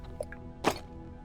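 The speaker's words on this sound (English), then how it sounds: "I also need to eat some bread and drink some water." Drinking water in Subterrain: Mines of Titan gives a soft drip and a brief wet gulping squish over a low ambient game hum.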